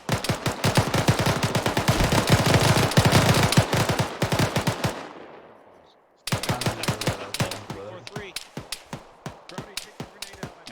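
Rapid bursts of gunfire in ArmA 3 crack out loud and close for about five seconds, then a brief silence before more sharp, spaced shots resume, with faint voices in the mix.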